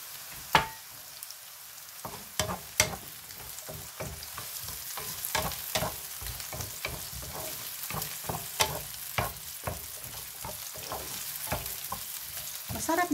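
Onion, mushrooms and celery sizzle steadily in a pan, with repeated sharp scraping clicks of stirring close by and no talk.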